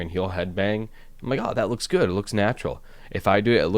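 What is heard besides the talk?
No distinct noise like a dog, phone or traffic.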